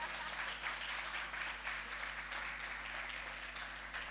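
Sustained applause from the audience at a best-practice symposium, steady and moderately distant, filling the room evenly for several seconds with no voices on top.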